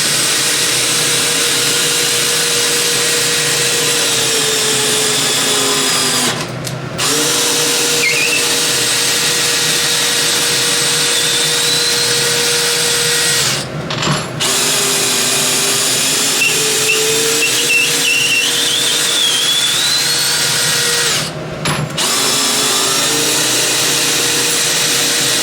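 A DEWALT 12V Xtreme cordless drill runs in low range, a steady loud whine held for long stretches with three short pauses between runs, no voices.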